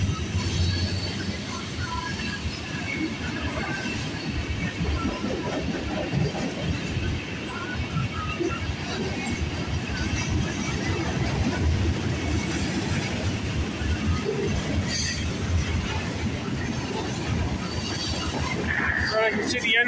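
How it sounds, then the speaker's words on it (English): CN freight train passing during Victoria Day railfanning, a steady rumbling roll of wheels and cars continuing throughout, moderately near, with a person talking over it. "Okay, so now I know what this train definitely is."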